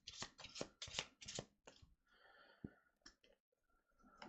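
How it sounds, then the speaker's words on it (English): A deck of game cards, including a residence deck and Night Raid cards, is shuffled by hand. Several quick, papery riffling bursts come close together up front, then fade into lighter scattered handling noises and soft breaths. "And so we're shuffling"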